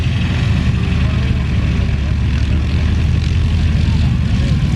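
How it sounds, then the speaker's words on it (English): Boeing PT-17 Stearman biplanes taxi toward the runway with a steady, loud radial-engine propeller drone that holds close and continuous, with a rough rumbling low end throughout. "We're going to taxi on down here to take the passengers down to the end of the runway."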